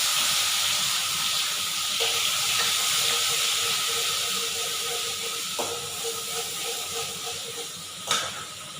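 Spice paste frying in hot oil in a kadai, a continuous loud hissing sizzle filling the whole stretch, with a few faint utensil knocks and one brief sharper tap near the end.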